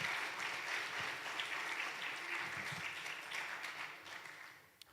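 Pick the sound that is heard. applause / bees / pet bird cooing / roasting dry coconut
applause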